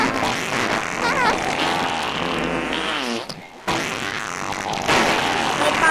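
A comic fart sound rings out amid a busy, music-filled game soundtrack, with a brief near-silent gap partway through before the noise picks up again.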